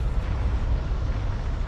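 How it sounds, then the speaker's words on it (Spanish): A volcanic eruption of Mount Tambora on the Indonesian island of Sumbawa is rendered as a loud, continuous deep rumble with churning low booms, heavy and close throughout with no talking. "La erupción del monte Tambora, situado en la isla indonesia de Sumbawa, es la mayor jamás registrada."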